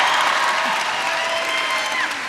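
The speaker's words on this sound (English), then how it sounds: "You better clap for Amy." A crowd at a Tina Fey book talk applauds and cheers in a thick, continuous wash of clapping and voices that stays loud and even throughout.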